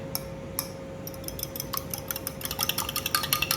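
Eggs being stirred in a bowl to break the yolks, giving light repeated clinks and taps that quicken and grow busier toward the end, close and fairly soft with no talking.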